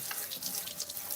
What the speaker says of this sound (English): So I'm just rinsing everything, taking my time to make sure that I get all of the areas so I don't miss anything.